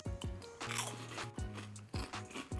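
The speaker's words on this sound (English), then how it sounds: "like listen to the crunch" Crunchy high-protein cheese ball snacks bitten and chewed up close, giving several sharp crunches in irregular bursts with crackly chewing between them and no talking.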